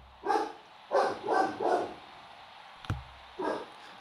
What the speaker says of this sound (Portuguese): E meu cachorro tá latindo.